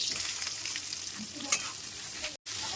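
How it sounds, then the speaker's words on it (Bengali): Chopped onion and slit green chillies frying in ghee for mutton malai curry, a close, continuous hiss and sizzle with soft stirring scrapes and one sharp clink, then a brief cut to silence near the end. "এবার দিয়ে দিচ্ছি পেঁয়াজ কুচি আর কাঁচা লঙ্কা চেরা।"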